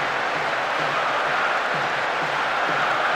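A stadium crowd in a PES 6 Serie A match between Cagliari and Siena keeps up a steady, dense roar that stays even and unbroken throughout, with no clear cheer or swell.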